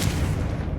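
A Confringo fire spell cast in Hogwarts Legacy, giving a dense, sustained burst of booming, crackling fire across the whole moment with no pause, loud and close.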